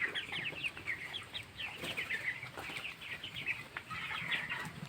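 Broiler chickens about 19 days old in a poultry shed, giving steady overlapping clucks and chirps throughout, with occasional wing flaps and rustling from the flock close by; no talk.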